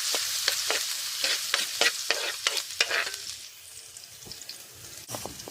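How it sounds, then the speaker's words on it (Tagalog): Garlic dropped into hot oil for chicken feet adobo, a close sizzle broken by stirring scrapes and clicks that fade to a softer hiss, with no voices. "nagpainit na ako ng mantika. Ayan, nilagay ko ng ating bawang"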